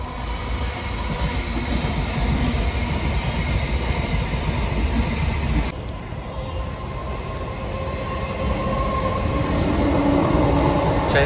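A Chennai suburban train runs past on railway tracks, a steady loud rumble of wagons rolling close by, continuous throughout with a faint squeal of wheels toward the end.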